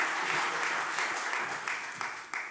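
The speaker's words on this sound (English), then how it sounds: "Give him a round of applause." Steady applause from a crowd fills the whole stretch, a dense wash of clapping at moderate distance.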